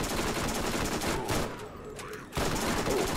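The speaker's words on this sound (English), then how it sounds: "Because I'll be here forever shooting these zombies." Rapid sustained gunfire against zombies in Borderlands: Zombie Island, loud bursts of shots that pause briefly before resuming at full intensity, no voices.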